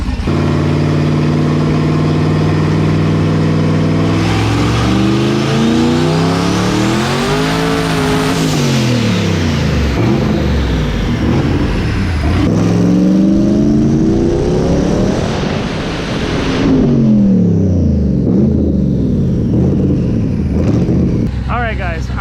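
A car strapped to a dyno runs repeated full-power pulls, its engine roaring loud and close. Pitch sweeps up and falls back several times, with a continuous heavy mechanical drone and no pauses.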